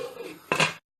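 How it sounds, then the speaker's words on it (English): A lid is set down onto a cooking pot of boiling chicken soup, a single short metallic clank following some quiet kitchen noise. "And then you're going to cover back your pot and let the chicken boil in there for a bit, okay?"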